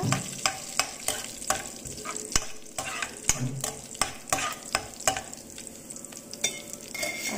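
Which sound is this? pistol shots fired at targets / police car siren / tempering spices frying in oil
tempering spices frying in oil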